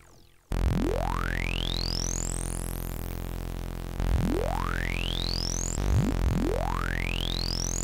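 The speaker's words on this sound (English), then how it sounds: "Actually, let's go with delay." Woovebox synth notes with a delay effect, each tone sweeping sharply upward in pitch and repeating three times in a steady echo, loud and alone with no talking.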